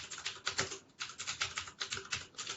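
Rapid typing on a computer keyboard during an online work meeting: steady, uneven clusters of close, crisp key clicks continuing throughout with no talk.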